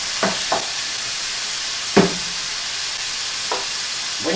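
Minced beef frying in a pan gives a steady hiss of sizzling, broken by a few scraping stirs of a spoon. It sounds close and fairly loud, with no one talking.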